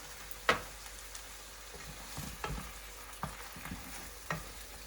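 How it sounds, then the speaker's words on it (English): Tomato and onions fry quietly in a pan while a utensil stirs them, with scattered scraping knocks and taps over a soft, low sizzle, close and fairly faint. "Now that I have stirred the tomato with the onions for 10 minutes"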